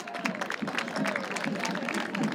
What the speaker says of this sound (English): Round of applause for all those kids.